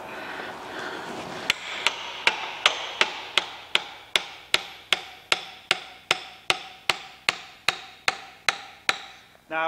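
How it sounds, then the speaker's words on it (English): A hammer drives a screwdriver in behind the brake pad of a Ford Mondeo front brake to push the caliper piston back. About seventeen sharp metallic blows land at a steady rhythm, close and loud, after a short quiet start. "just going to hammer this screwdriver in at the back pad"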